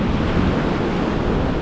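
Ocean surf washing in steadily at Tamarama beach, a continuous broadband roar of breaking waves with wind buffeting the microphone, no voices.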